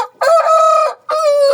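Two loud, close rooster crows, one after another with a short gap, ring out clearly with little else around them.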